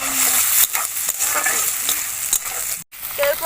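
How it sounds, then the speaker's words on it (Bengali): Chopped onion, tomato and slit green chilli fry loudly in a pan, a dense continuous sizzle broken by stirring scrapes and one brief silent gap near the end. "টমেটো কুচি, কাঁচা লঙ্কা চেরা, পেঁয়াজ আর টমেটোটা আমি একটু ভেজে নেব"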